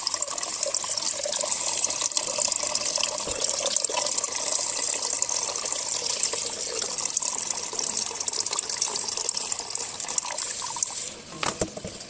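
Two liters of water poured into a cooking pot, a continuous rushing, gushing stream lasting several seconds and easing off near the end, with no speech.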